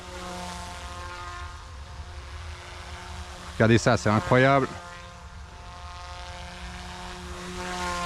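Goosky S1 RC helicopter with a brushless motor flying outdoors, a steady whining rotor drone running throughout with slight pitch shifts, while someone speaks briefly in the middle.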